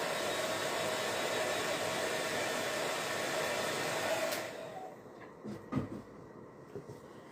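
A hair dryer blows on wet paint, a loud, steady close whoosh for about four seconds before switching off, followed by a few faint handling knocks in the quiet.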